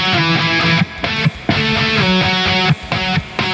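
Electric guitar playing the lead part of a song slowly, a run of strummed chords with short gaps between, moderately loud and close, no voices.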